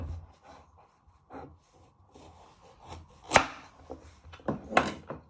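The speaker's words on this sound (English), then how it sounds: "Next step is to prep your carrots. You first chop off your ends." Knife chopping the ends off carrots on a cutting board, a couple of sharp close thuds with smaller taps between, in a quiet room.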